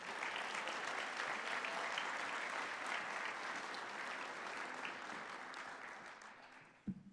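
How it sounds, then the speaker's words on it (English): A policy conference audience gives a sustained round of applause for a speaker, Brett Tolman. The dense clapping holds steady, then thins and fades near the end, finishing with a single sharp knock. "How about one more round of applause for Mr."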